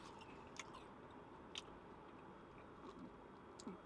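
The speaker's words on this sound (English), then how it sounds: "Really crispy, crunchy. You'll probably be able to hear it in the video." Faint crisp crunches of bites into battered fried fish and chips, a few sharp clicks spaced irregularly over a steady low background hiss.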